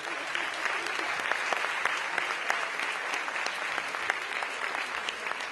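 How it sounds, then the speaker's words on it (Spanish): An audience at a Basque fandango and arin-arin choreography competition awards ceremony claps steadily, a dense patter of hands that stays even and moderately loud from start to finish. "Un aplauso para ella, por favor."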